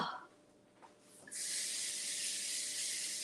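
Onions hit a hot pan and break into a steady, bright sizzle that holds loud and even after a quieter moment with small clicks.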